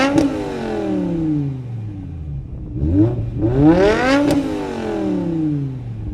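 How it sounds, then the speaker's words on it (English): A BMW M5 V10 with a muffler delete revs hard several times, its sharp rising and falling howl close and loud, with no talking. "Let's go ahead and take this thing out and let you guys hear this V10 rip."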